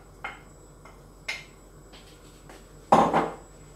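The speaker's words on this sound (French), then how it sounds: "On mélange." A utensil knocks and scrapes around a pan of squid in tomato coulis over medium heat, giving a few sparse clinks and then a louder clattering scrape near the end, close and with no voices.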